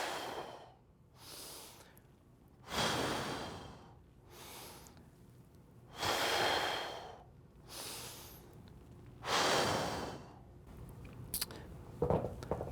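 Deep, loud breaths in and out during dumbbell bicep curls, alternating long airy inhales and exhales roughly every second or two, close to the ear with no talking.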